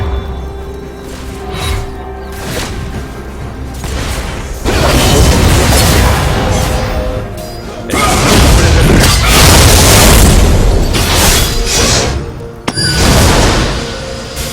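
A turret being destroyed in League of Legends, heavy booming blasts and rumbling crashes within dense game sound effects, loud and sustained, with voice lines heard over it.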